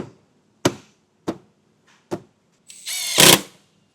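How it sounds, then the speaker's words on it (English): A power tool drives screws while a tail light is refitted on a 2018 Kia Soul. A few sharp knocks come first, then a short, loud whirring burst from the driver up close. "We'll get right here, and we'll just reinstall those screws."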